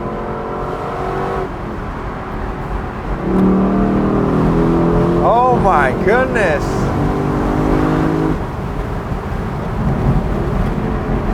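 A 2021 Lexus LC500 convertible, its engine revving up loudly through rising sweeps with exhaust crackle before settling into a steady drone, heard close up with a brief excited exclamation.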